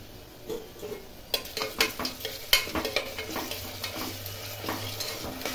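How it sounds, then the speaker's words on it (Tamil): Ginger garlic paste fries in a pan of oil for a vegetable biryani, with a soft sizzle under repeated close scraping and clattering stirs of a spoon against the metal. "இப்போ தேவையான அளவுக்கு இஞ்சி பூண்டு பேஸ்ட் போட்டுக்கும்"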